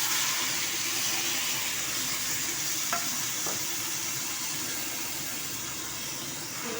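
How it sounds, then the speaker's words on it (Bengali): Chicken fries in hot ghee in a kadai wok for chicken biryani, giving a continuous close sizzle with a couple of soft scrapes as it is gently stirred. "যতক্ষণ পর্যন্ত ভাজা না হচ্ছে আমি আস্তে আস্তে নাড়বো।"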